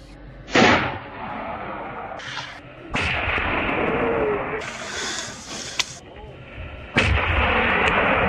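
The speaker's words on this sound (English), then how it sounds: "In an instant, a sharp shot rang out in the quiet space." A single sharp gunshot fired at a herd of wild boars rings out loud and close in a quiet outdoor setting, with a few other sudden bangs and rustles scattered through the clip.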